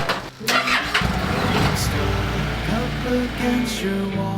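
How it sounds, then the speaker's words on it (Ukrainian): A motorcycle engine cranks briefly then catches and settles into a steady idle, close by, after a couple of short clicks and rustles. "Сідаю на байк, завожу."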